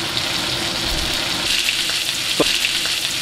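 Steak frying in a pan with lovely butter, garlic and rosemary, giving a steady, close sizzle and crackle with a single sharper spit near the end.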